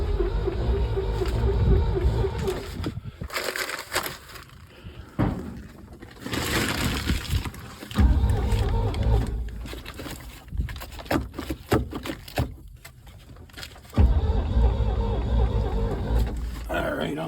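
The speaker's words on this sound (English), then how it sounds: "Ignition on and crank." A 1969 C30 truck pulled from an oil field cranks over in repeated, rough, churning bursts with pauses between attempts, close and loud, along with some clanking.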